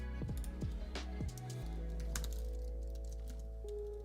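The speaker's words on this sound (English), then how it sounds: "You watching me type on a keyboard." Typing on a computer keyboard, a run of quick, light clicks and taps, fairly faint, over a steady low hum with a few tonal bleeps.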